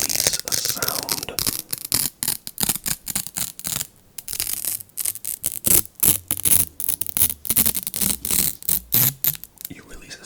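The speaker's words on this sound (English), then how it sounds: "I think almost everyone in the world recognizes the sound of Velcro" Velcro strips pulled apart in a quiet close-miked setting, a long run of rapid rasping tears in short bursts, each ripping pass separated by brief pauses, loud and near with no talking.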